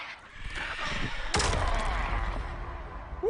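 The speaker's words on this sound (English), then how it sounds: "There's some emphasis on these gunshots." Gunshots fire in the Injustice 2 fighting game during a tournament match, one sharp booming shot with a rumbling tail over busy game sound.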